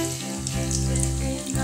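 Tofu frying in hot oil in a pan, a steady close sizzle that holds throughout with continuous hiss and no talking.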